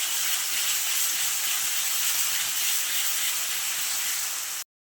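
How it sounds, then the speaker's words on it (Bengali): Spice paste of bottle gourd peel and spinach sizzles in a kadai with dry chilli flakes and black cumin while being stirred, a steady, close, even hiss with no talking. "বাটাটা দিয়ে ভালো করে নাড়িয়ে নেব"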